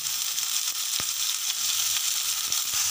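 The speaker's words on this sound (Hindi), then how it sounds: "ये सबको हमें थोड़े टाइम के लिए रोस्ट करना है।" Ginger, garlic and chopped onion fry in hot oil, a steady dense sizzle filling the whole clip with a few sharp crackles and pops, close and fairly loud, no one talking.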